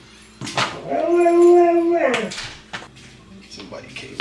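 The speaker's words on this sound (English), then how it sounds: "my dog loves to talk, so of course he came in just to say it was good." A talkative pet dog howls in a long rising-and-falling wail, then whimpers and yips briefly, close and loud indoors in a kitchen, with faint talk underneath.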